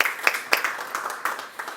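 Brief burst of audience applause at a university book presentation ceremony, a dense crowd clapping with a few sharper claps standing out, moderately loud and close.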